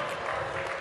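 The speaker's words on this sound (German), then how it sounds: "Hör auf zu klatschen, ihr hört das doch" Audience clapping at a German carnival comedy show, a steady dense patter held at even loudness through a short moment.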